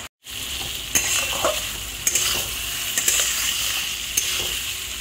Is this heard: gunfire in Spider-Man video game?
no